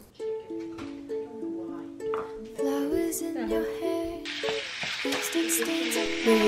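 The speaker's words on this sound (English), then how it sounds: "When you hear the sizzling sound, keep stirring and cooking the chicken for 1 to 2 minutes in the pan" Steady sizzle of chicken frying in hot oil in a pan over high heat, broadband hiss swelling louder in the second half, over a background of tonal music and faint stirring clatter.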